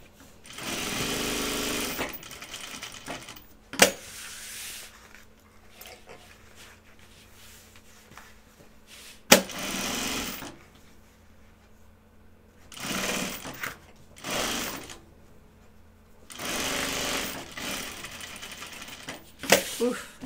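A sewing machine stitches in several separate loud bursts of rapid mechanical chatter, with sharp clicks between runs and quieter stretches where a voice talks softly.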